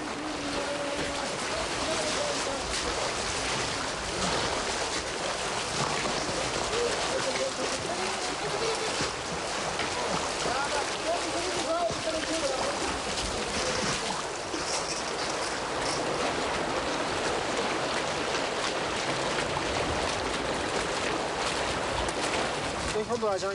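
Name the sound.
river flowing during a river trip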